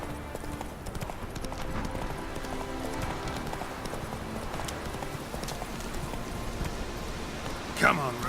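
Roach, the horse in The Witcher 3: Wild Hunt, gallops in a steady, fast hoofbeat rhythm that runs continuously under game sounds, with a brief sharp rise near the end.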